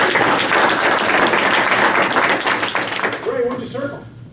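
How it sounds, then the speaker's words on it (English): Loud, close group applause from a room of participants, sustained then tapering off as a voice starts to speak near the end. "Let's give her a round of applause"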